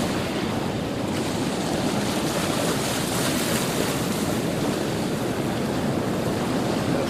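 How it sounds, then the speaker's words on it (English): Slow soliton waves rolling upstream on the River Carron at Stonehaven, Scotland, giving a steady, broad wash of surf-like water with constant wind noise, no pauses and no talk. "As the waves come upstream, you think that they're actually growing."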